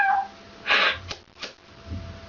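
A human voice imitates a cat with one breathy meow-like cry, followed by a couple of short softer sounds, close and fairly quiet.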